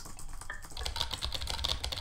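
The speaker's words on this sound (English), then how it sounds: "Super fast typing skills." Rapid keyboard typing in the video game Emily Is Away, set in 2002: a fast run of clicky keystrokes in a dense, steady patter.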